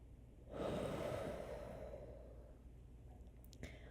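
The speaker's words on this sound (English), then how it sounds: "2 more breaths here" A single slow, deep breath is drawn and released during a postpartum pelvic floor recovery exercise, close and soft, rising quickly then fading over a few seconds.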